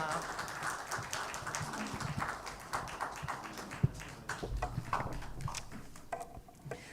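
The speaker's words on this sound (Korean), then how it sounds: "주님께 감사의 찬송 박수 올려드리겠습니다" A church congregation at Sunday worship claps in thanks, scattered light handclaps of moderate loudness that start and stop unevenly over several seconds, with a few sharper claps standing out.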